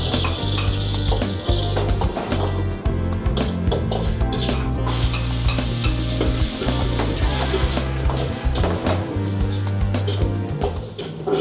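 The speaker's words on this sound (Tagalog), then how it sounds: "Ginigisa na yung para sa gisado." Pork liver, head meat and intestines sautéing for Batangas gisado, a loud continuous sizzle with scraping, clattering stirs of a utensil against the pan throughout, no talk.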